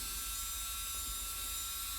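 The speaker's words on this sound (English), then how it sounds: "then over to the grinder, just a rough belt, a 40 or a 60, and just neatening up everything" Belt grinder fitted with a rough 40 or 60 grit belt neatening the edges of a Kydex knife sheath, a steady high whine and buzz running continuously and fairly quiet throughout.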